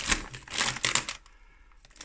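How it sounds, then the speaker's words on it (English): A bag of Reggae Reggae groove cut crisps being pulled open, a close burst of crinkling, crackling plastic for about a second, then near quiet with a brief rustle at the end. "Let's open this bag."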